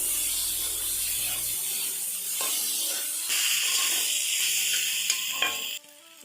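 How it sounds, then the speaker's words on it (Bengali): Spice paste with green chilli fries in hot oil in a pan, giving a loud, steady sizzle with hissing steam and scraping stirs until it cuts off near the end. "ভালো করে মশলাগুলো দিয়ে ভেজে নেব"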